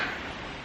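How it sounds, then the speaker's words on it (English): An alarm clock ticks quietly and steadily over a soft background hiss, heard for less than a second with no voices. "That's my alarm clock."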